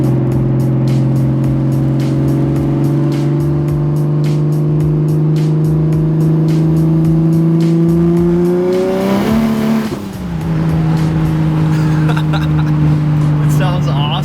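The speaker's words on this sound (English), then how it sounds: "let's see what it sounds like in third if I downshift a little" A single-turbo BMW 135i held in third gear, its engine droning loudly and climbing steadily in pitch before a brief dip around a shift, then settling back into a steady hum, close up from inside the car.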